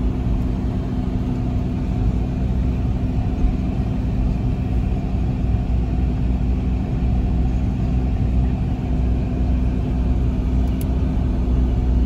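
A steady low engine rumble and road noise fill the cabin of a car with dark-tinted windows as it drives along, continuous and unbroken with no talk.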